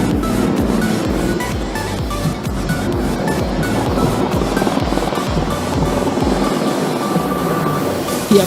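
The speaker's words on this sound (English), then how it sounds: "the Apache attack helicopter demonstrating its agility by whipping a continuous loop in the skies" An Apache twin-engine attack helicopter's rotor chops and engine roar fill the air continuously at an air show, loud and steady with a rushing, wind-like wash throughout.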